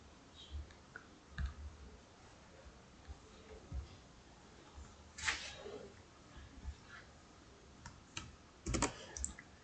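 Light keyboard typing during a Portuguese-language geometry lesson, quiet scattered key clicks in short bursts over a faint background hum, with no talking.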